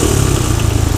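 An engine runs loud and close with a rough, pulsing drone that holds steady over a short stretch, without a clear rise in pitch.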